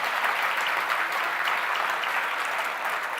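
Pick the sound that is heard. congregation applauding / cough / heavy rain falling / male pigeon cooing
congregation applauding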